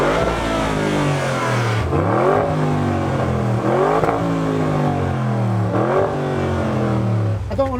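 A 2021 Audi RS6 C8 Vorsprung fitted with a Miltech exhaust revs hard and close, several rising blips that climb and fall back in a repeating pattern over a continuous loud engine roar.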